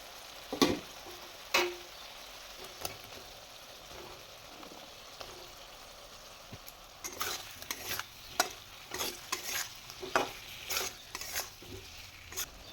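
Fried potato pieces go into a cooked mustard masala in hot oil, sizzling quietly with scattered knocks and scrapes of a spoon against the pan, the clatter growing busier toward the end.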